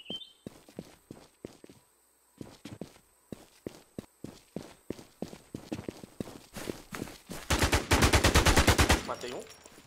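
Rapid bursts of gunfire in the video game Infestation: The New Z crack in irregular volleys, building to a dense, loud stretch of automatic fire near the end.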